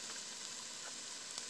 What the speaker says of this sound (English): Yep, it's making a nice sizzle for me.